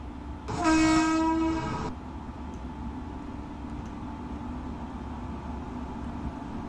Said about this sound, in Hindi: भाई साहब आ रही है यहाँ पे हमारी ट्रेन कालका मेल